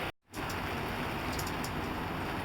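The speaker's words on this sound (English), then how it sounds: "this is raindrops falling. And a lot of them, but they're all extremely tiny." Extremely tiny raindrops falling in great numbers, a steady dense hiss of fine rain close by, unbroken apart from a brief dropout near the start, with no voices.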